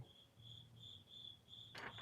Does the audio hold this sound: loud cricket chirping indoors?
yes